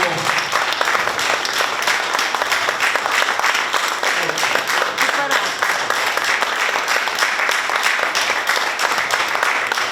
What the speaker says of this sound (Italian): Meritano questo bel applauso